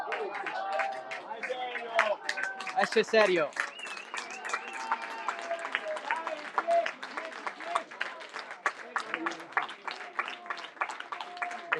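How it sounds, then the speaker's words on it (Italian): Football fans at an Italian amateur Promozione Sicilia match between Geraci and Villarosa applaud a substituted player, with steady clapping and crowd chatter carrying on under a commentator's voice. "comunque applaudito dai tifosi"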